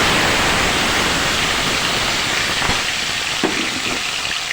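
Cumin seeds and eggplant frying in hot oil for an aloo baingan curry, giving a steady, close, continuous sizzle that eases slightly toward the end, with no talking.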